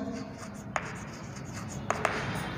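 Marker or chalk writing on a board during a physics lesson, soft scratchy strokes with a few sharp taps against a steady background hiss.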